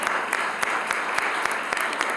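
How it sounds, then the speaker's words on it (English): An audience at a gentrification summit session gives steady applause, a dense, continuous patter of clapping with a few sharper individual claps standing out, fairly close and filling the whole moment. "let's give him a round of applause"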